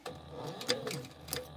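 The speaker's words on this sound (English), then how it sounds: "zzz of my thread means my thread is going to get caught in my rotary hook" A sewing machine runs steadily at close range, its thread giving a low, continuous buzz near the rotary hook, with light rhythmic ticking over the motor hum.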